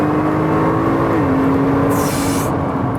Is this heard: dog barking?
no